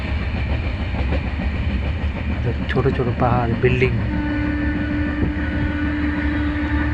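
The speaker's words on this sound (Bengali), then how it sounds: "এখন দৌড়াচ্ছে, ট্রেন দৌড়াচ্ছে" A moving train rumbles steadily throughout with a constant low roar and faint clatter, heard from inside as someone speaks over it.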